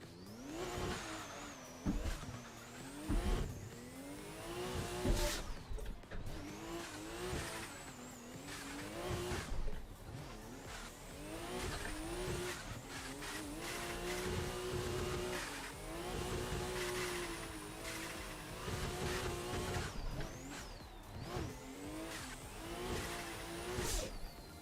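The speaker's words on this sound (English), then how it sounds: "I'm driving an S15 right now" A Nissan S15 drift car in a Formula Drift Englishtown racing game, its engine revving and pitching up and down through gear changes while the tires squeal almost continuously, loud and close, with no talk.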